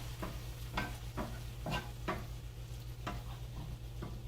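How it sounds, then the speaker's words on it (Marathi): Gram flour frying in oil with capsicum on very low heat, stirred in a pan: a soft, constant sizzle under repeated scraping strokes of a spoon at an uneven rhythm. "आणि गॅस पूर्णतः बारीक करायचा आणि छान असं ढवळून घ्यायचं"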